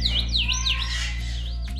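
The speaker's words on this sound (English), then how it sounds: "Cody's one of the smartest types of parrots, an African gray" An African grey parrot gives a run of swooping, whistled chirps and warbles, loud and close, over a steady low electrical hum.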